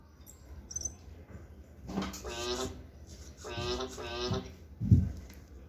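EMO desktop robot pet mimics a frog with two short, buzzy electronic croaking bursts a moment apart, clear and close in a quiet room.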